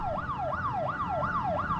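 A police car siren in the video game The Uncertain, wailing in a fast, regular rise-and-fall cycle, loud and steady with no talk over it.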